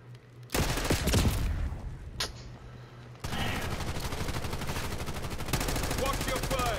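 Gunfire in a Call of Duty style shooter game, with bursts of rapid automatic fire and a shotgun blast, loud and dense with short pauses between volleys, with players talking over it.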